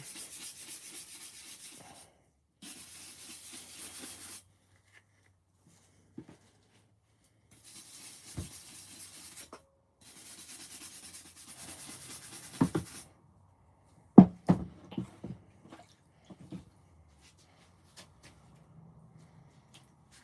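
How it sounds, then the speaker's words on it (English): A rusty old horseshoe from a horseshoe toss set is rubbed with higher grit sandpaper in repeated dry, scratchy strokes of a few seconds each, separated by pauses, followed by a few louder knocks and handling taps. "I can also get like a higher grit sandpaper out and rub it as well"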